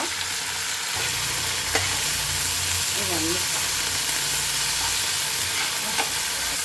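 Mint leaves and tomatoes frying in oil in a pan for a mint chutney, a steady, close sizzle and hiss running throughout with occasional faint stirring clicks and no talk.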